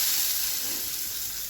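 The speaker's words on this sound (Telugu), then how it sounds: "నూనె కాగిందండి, చేపలు వేసుకున్నాము." Masala-coated fish fries in two spoons of hot oil in a pan, giving a steady, close, bright sizzling hiss that carries evenly through the moment with no talking.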